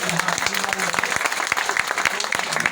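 Audience clapping at a Hanuman Jayanti poetry gathering in Bahraich, a short burst of applause with distinct individual claps, with talk partly over it.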